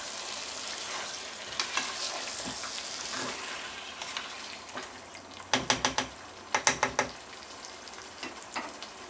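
Beef pieces being stirred and mixed with spices in a pot for a Bangladeshi beef bhuna, a steady soft sizzle with scraping stirs and a burst of sharp clacks from the spoon against the pot near the end.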